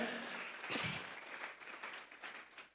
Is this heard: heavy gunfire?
no